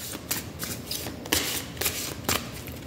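A deck of homemade song cards being shuffled, with repeated riffling bursts and soft card slaps in a steady rhythm, close and alone with no talk.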